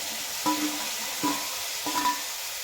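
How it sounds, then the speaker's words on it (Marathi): A spoon stirs cauliflower with turmeric and spices in a hot pan, three separate scraping strokes with faint metallic ringing over a soft, steady sizzle. "आणि हे छानसं आपण हलवून घेऊयात"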